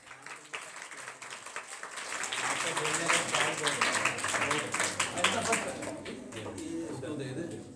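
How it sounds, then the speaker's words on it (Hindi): An audience claps for a student speaker at a school Urdu debate competition in a hall, a sustained burst of many hands that swells and then tapers, with voices murmuring through it. "इसके उस्मान के लिए तालियां भाई"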